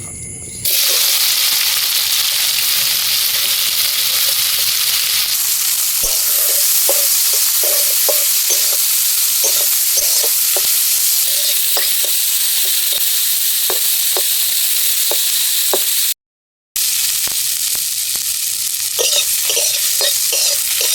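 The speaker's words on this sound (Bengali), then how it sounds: "এবার ডিম ভাজার কড়াইতেই পেঁয়াজ কুচি দিয়ে দেবো।" Chopped onion sizzles loudly in a wok still hot from frying eggs, with a steady hiss broken by repeated scraping stirs and a short pause partway through.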